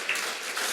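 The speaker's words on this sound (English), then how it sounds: "You're supposed to applaud now" Brief audience applause at a housing summit talk, a soft, even wash of many hands clapping at a distance, with no speech over it.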